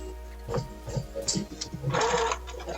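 A sewing machine stitches fabric for a wrap dress, giving a few short, quiet bursts of rapid needle chatter with small pauses between them. The sound is close and fairly soft, and there is no talking.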